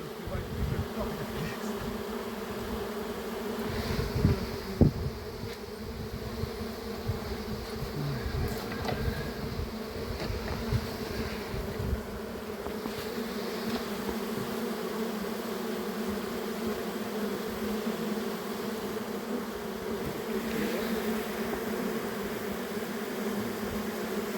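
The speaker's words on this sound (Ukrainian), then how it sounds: "Бджола вся злітається." Honey bees swarm around their hives in a continuous, close buzzing drone as rain clouds approach, with a few brief knocks and rustles but no talk.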